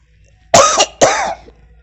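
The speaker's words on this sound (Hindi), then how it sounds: "खांसी आ जाए, ठंडे पानी से।" Two sharp, close coughs in quick succession, each a short rough burst, with quiet before and after.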